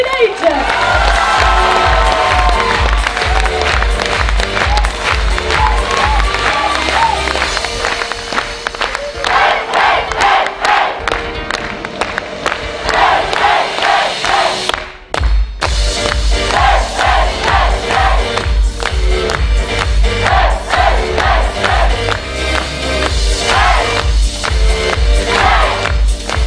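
A packed audience at a December 2012 school show in Millau, France, applauds and cheers loudly and continuously, the clapping and shouting holding steady throughout with only a brief dip midway.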